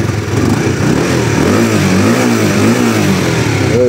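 Close, loud engine revving from a Honda CBR or Yamaha R15 sport motorcycle, the idle rising into sweeping throttle blips that climb and fall several times with no talk over it.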